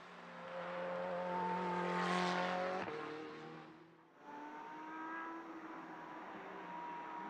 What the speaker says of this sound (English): That's the Ferrari Challenge car, trying to stay ahead of the Porsche GT4.